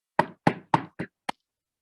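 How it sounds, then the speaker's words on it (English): Five knocks on the wooden door of a large kampong house, four evenly spaced raps followed by a slightly delayed fifth lighter tap, close and crisp with silence in between. "upon arrival at a huge kampong house, he knocked on the door."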